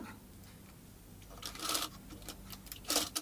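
A sewing machine stitches folded cloth for a homemade surgical mask, running in two short bursts over a quiet background.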